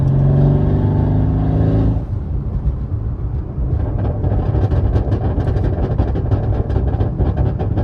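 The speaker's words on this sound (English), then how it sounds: "Got the max burble tune on, so let's go ahead and hear it." A car with a max burble exhaust tune revs loudly up close, then settles into a rough, crackling burble and popping from the exhaust.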